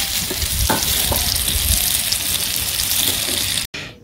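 Pointed gourd slices frying in oil in a pan, a steady bright sizzle with occasional stirring clinks, ending abruptly.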